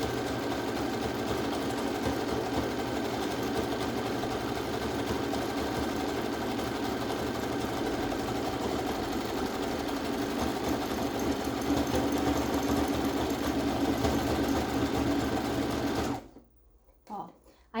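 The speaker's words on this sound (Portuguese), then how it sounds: "Eu só encaixo ela aqui no meio, tá? Continuo a minha costura." A sewing machine stitches the collar of a tank top in one long, steady, close run of rapid stitching, with someone talking over it, then stopping abruptly near the end.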